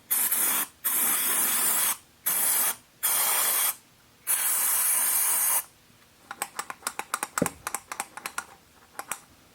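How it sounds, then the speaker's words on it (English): Carb cleaner sprayed into the throttle body of a V8 BMW E34 in bursts: several loud, hissing aerosol blasts about a second each, followed by a run of rapid, sharp crackling ticks. "we're going to spray some Carb Cleaner in here"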